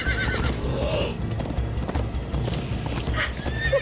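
Horse in the video game Minecraft whinnying loudly up close, with clip-clop hoofbeats of a gallop running steadily underneath.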